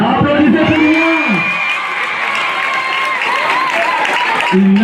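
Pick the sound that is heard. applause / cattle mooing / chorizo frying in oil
applause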